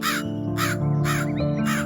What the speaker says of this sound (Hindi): उसके पास कालू कौवा आया